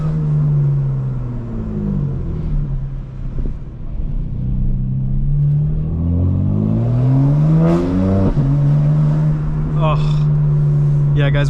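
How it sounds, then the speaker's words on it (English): 2025 BMW M4 Competition exhaust with burbles off and valves open, a deep close drone that dips and then sweeps up through several rising revs, settling back to a steady hum, with a voice speaking over parts of it. "with the burbles off and the valve controller on to open the valves, it just sounds so good"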